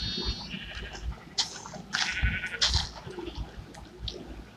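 Sheep and young goats on a farm bleat close by in overlapping, wavering cries, several calls in quick succession against low barnyard background noise.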